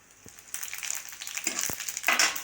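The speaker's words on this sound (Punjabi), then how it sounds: "ਤੇਲ ਐਨ ਪੱਕ ਚੁੱਕਾ ਹੈ ਤੇ ਆ ਦੇਖੋ ਚਮਚਾ ਮੈਂ ਪਾਉਂਗੀ ਜੀਰੇ ਦਾ" Cumin seeds crackling and sizzling in hot oil in a pan, a dense bright frying hiss that swells with a few soft stirring knocks, steady and close with no talk.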